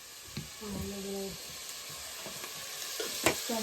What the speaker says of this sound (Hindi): मम्मा लगा दिया तड़का?